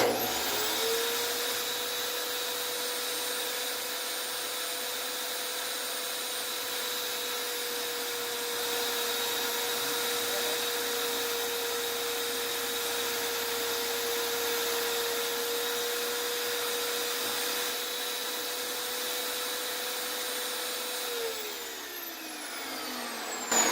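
A table saw crosscutting wood on a crosscut sled, a steady loud whine running unbroken for about twenty seconds before spinning down near the end, alone with no talk.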